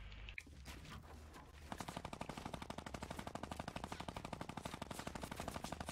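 Minigun firing in Fortnite, a long rapid rattling burst of evenly spaced shots that starts after a short pause and keeps going without letup, fairly quiet in the mix.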